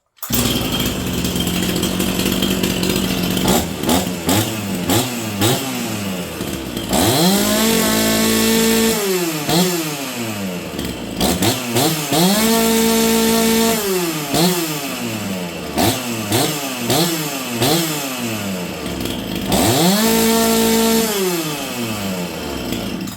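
A chainsaw bought at auction, fitted with a rev-limited ignition, revs hard to high RPM in repeated bursts and falls back to idle between them. The loud engine whine climbs and drops in a clear rhythm, with no voices.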